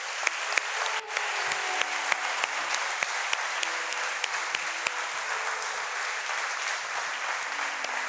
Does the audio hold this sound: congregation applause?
yes